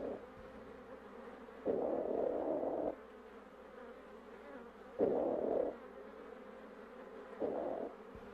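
Honeybees on the comb make a steady low hum, with louder surging bursts of buzzing that come and go every few seconds, close and alone with no voices.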